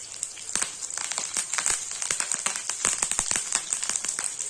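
Crushed shallots, dried red chili and curry leaves crackle and pop in hot oil for a Tamil snake gourd sambar, with dense sharp spattering sizzles close up and no talking.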